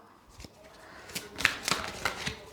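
Tarot cards shuffled by hand in a rapid run of crisp riffling bursts and soft flutters, close and fairly quiet, with no talking.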